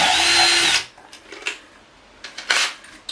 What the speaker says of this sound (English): we can go ahead and drill that out